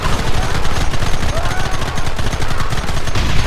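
Rapid gunfire from the video game Red Dead Redemption, loud dense rattling bursts running throughout as one continuous volley.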